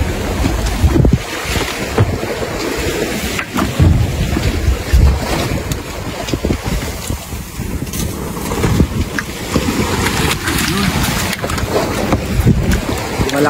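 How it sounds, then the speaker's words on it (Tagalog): Out on the open sea on a fishing trip, waves and current wash around a small boat, with constant loud sloshing and splashing under heavy wind buffeting the microphone; no voices are heard. "Yung agos at yung alon di pa rin nagbago,"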